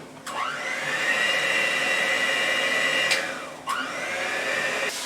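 Electric hand mixer whipping mashed potatoes: a loud, close motor whine that speeds up at the start, drops and recovers twice as the speed shifts or the beaters bog down, then runs steadily again, with no talk.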